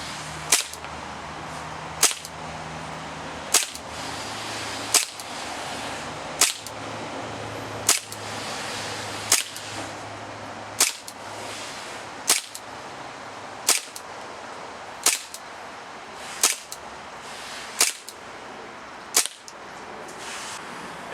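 Airsoft Desert Warrior 4.3 pistol fired on propane, about fourteen sharp cracking shots at a steady pace of roughly one every 1.5 seconds, each a loud close snap with brief decay over quiet outdoor background.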